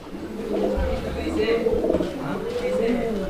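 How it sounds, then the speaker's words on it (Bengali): Two active fancy pigeons, a male and a female nearing egg-laying time, coo in soft low rolling calls throughout, close by, mixed with someone talking over them. "এই দেখেন কীভাবে ডাকে দেখেন দুইটা কবুতর এতটা অ্যাক্টিভ"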